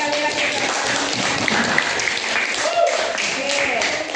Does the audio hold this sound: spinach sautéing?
no